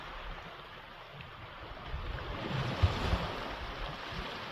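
Sea waves wash against a rocky shore without a beach on the north coast of Crete, a steady broadband rush with gentle swells and some wind noise, heard alone.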